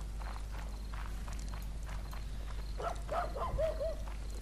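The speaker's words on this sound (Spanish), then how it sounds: "Hay gente en caballos, en serio." Horse hoofbeats in Mount & Blade: Warband, a zombie apocalypse mod, clopping steadily at moderate distance through a busy game ambience, with a brief animal-like cry rising near the end.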